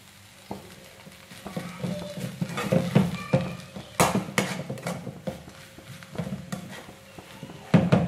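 Vermicelli egg biryani stirred in a pot over low heat, close rustling and scraping of a spoon with knocks against the pot, rising and falling in uneven bursts over a faint sizzle.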